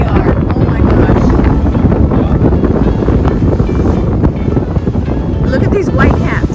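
Strong Meltemi wind sweeping over whitecapped sea off Santorini in the Cyclades, heard from a sailboat: loud, constant buffeting rush on the microphone throughout, with muffled voices underneath.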